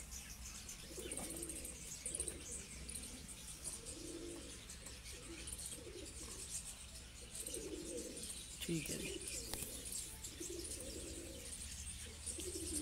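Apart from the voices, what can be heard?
F16 breed pigeons cooing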